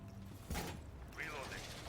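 Weapon reloading in an Xbox shooter game, a brief mechanical clack and metallic ratcheting sounding faint and mixed with a talking voice.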